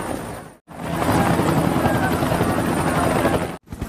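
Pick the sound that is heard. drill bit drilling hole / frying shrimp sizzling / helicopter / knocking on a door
helicopter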